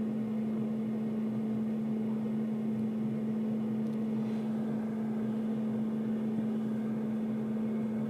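A Khind air fryer runs while cooking chicken nuggets, giving a steady, continuous electric hum and fan whir at moderate, even level with no talking.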